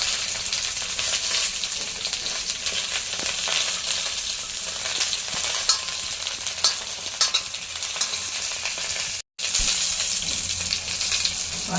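Stuffed brinjals for a Konkani-style bharli vangi fry in a pan with a steady, dense sizzle and soft stirring, broken by one brief drop to silence.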